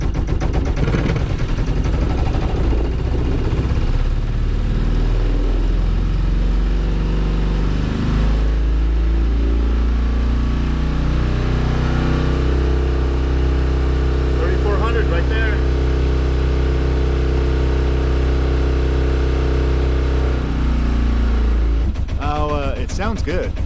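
A boat's inboard engine revs hard at full throttle with the gearbox disengaged, a loud, continuous roar that holds steady, shifts pitch midway, then drops off near the end.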